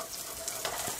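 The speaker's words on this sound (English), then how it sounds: "we're going to add the onions, and you can tell if the temperature is" Onions sizzling as they hit a hot pan while cooking green peppers, a steady close frying hiss with faint stirring clatter throughout.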